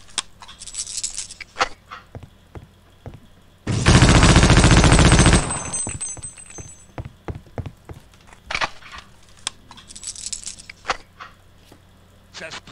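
Weapon fire in Half-Life: Opposing Force: a loud sustained burst of automatic gunfire with recoil lasting over a second, surrounded by sparse clicks and knocks, with someone talking now and then.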